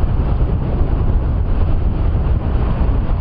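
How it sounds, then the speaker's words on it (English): Strong wind buffeting the microphone on an open safari drive in the African bush, a loud, continuous low roar with gusty fluctuations and no pauses. "Look at how windy it is."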